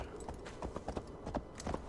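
Horse hooves clopping on ground in Assassin's Creed Valhalla, an uneven series of close, moderate thuds as the horse steps slowly downhill, with no talk over it.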